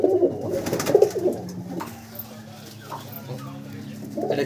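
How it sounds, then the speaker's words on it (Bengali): Male Kalanka pigeon cooing at a pigeon sale, low soft coos repeating near the start and again at the end, with someone talking and background chatter throughout. "এটা কি পয়রা? এটা হচ্ছে কালঙ্কা কালাঙ্কা নর।"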